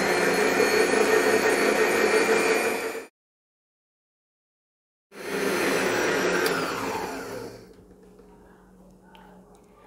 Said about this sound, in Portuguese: coloca para bater por aproximadamente 4 ou 5 minutos na velocidade 2 da sua batedeira